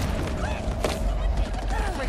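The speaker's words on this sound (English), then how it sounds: "Freaking cannon fire" Heavy cannon fire booms in the Halo Infinite campaign on Legendary difficulty, a dense rumbling barrage of blasts and thuds layered over game noise, with someone talking over the battle.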